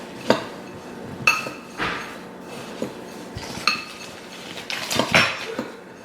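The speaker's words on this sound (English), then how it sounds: "Stir it all in here." Melted butter is stirred into a no-bake cheesecake mixture in a bowl, with a series of sharp, close clinks and knocks of a utensil against the dish at an uneven pace.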